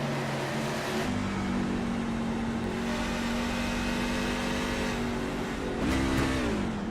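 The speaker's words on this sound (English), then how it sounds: "this truck definitely got stuck in gear. You can hear him trying to roll it out." In a racing video game at Iowa Speedway, a race truck stuck in gear drones at a steady, high engine pitch for several seconds, then the revs shift and waver as the driver tries to roll it out.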